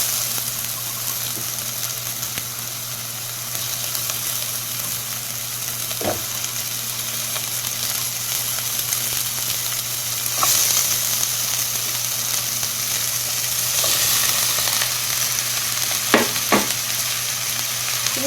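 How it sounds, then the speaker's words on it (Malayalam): Capsicum and onion sauté in a hot pan, a steady sizzle running under occasional scrapes and clacks of a spatula as the vegetables are stirred, no talking. "ഇത് നമുക്കൊന്ന് നന്നായിട്ട് വഴറ്റിയെടുക്കാം."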